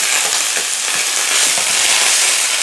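Cabbage sautés in a hot pan, giving a loud, dense sizzle with rapid crackling pops that runs continuously and close up, with no talking.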